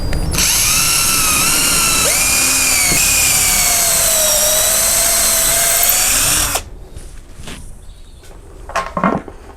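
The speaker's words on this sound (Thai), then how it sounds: "เดี๋ยวผมจะทำการเจาะรูตรงนี้นะครับ" A power drill whines loudly and steadily for several seconds, boring a hole to hang a solar lamp, its pitch shifting as it bites, then stops, followed by a few soft clicks and clatters.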